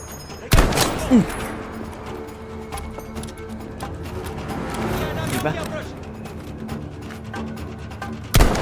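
Sniper rifle shots in the video game Battlefield V: one sharp, loud crack near the start and another at the end, with quieter game noise and a voice in between.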